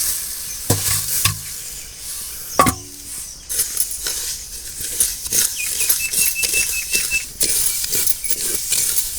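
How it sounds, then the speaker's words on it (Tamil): Sesame seeds roasting in a clay pan while being stirred, with a dry crackling sizzle and rattling scrapes of a spoon, several sharp knocks early on, close and fairly loud, no talk. "எள் வந்து நல்லா கருக விடாமல் அது நல்லா கிண்டிக்கிட்டே இருக்குங்க கிளறிக்கிட்டே இருக்கணும்"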